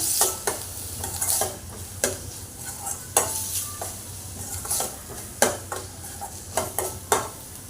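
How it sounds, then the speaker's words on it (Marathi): Finely chopped onion frying in a pan for a stuffed brinjal (bharli vangi) masala, with a steady low sizzle and repeated scraping stirs of a spoon against the pan, close and clear, no talking. "आता मी एक कांदा घेतला आहे बारीक चिरून तो चांगला परतून घेऊया चांगला गोल्डन ब्राऊन होईपर्यंत परतून घेऊया"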